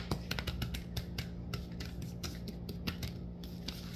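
A very large deck of tarot cards is spread out by hand, making a rapid run of close, crisp card slides and flicks that scrape and snap in quick succession with no talk over them.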